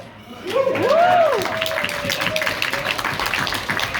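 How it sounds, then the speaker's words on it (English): An audience at a question-and-answer event in Michigan breaks into applause, dense clapping with a sharp rising whistle cutting through, while a speaker's voice continues over the crowd. "Appreciate that you're clapping now."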